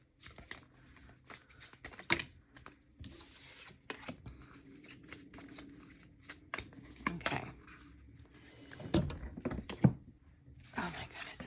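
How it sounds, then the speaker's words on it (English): Tarot cards are shuffled in a chaotic, uneven way, giving repeated soft riffles, taps and thunks at close range, with quiet pauses between bursts. "It's like chaotic card shuffling today and picking."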